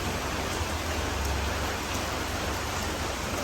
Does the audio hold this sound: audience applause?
no